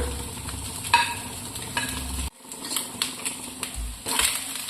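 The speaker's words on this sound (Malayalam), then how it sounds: "ചോറും കൂടെ ഇട്ട് നമുക്ക് നല്ലതുപോലെ മിക്സ് ചെയ്ത് കൊടുക്കാം" Cooked rice and egg being stirred in a hot frying pan, with a soft sizzle under repeated scraping and clattering strokes of a spatula, close and uneven in rhythm.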